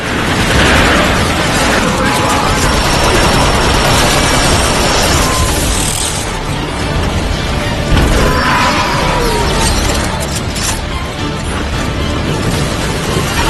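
Covering gunfire and heavy blasts in the Transformers: Fall of Cybertron battle game: a loud, dense, continuous roar of explosions, crashes and mechanical clatter, with a few sharper booms standing out.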